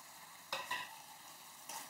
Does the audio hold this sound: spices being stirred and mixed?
yes